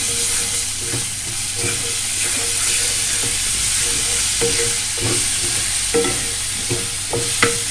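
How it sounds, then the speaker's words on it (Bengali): Garlic fried in hot oil in a pan, a loud continuous sizzle with steady stirring scrapes throughout, close and without talk. "এবার আমি দিয়ে দিচ্ছি রসুন। রসুনটাকে একটু নেড়ে নিই।"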